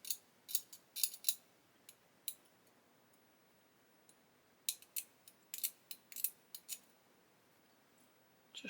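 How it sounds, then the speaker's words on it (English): A craft knife scrapes the mould seam from a plastic part of a 1/32 scale Lancaster B.III bomber kit, giving bursts of short, crisp scratching strokes in two clusters separated by a quiet pause, close and fairly soft. "So I'm going to come in with my knife and just scrape away, get rid of that mould seam."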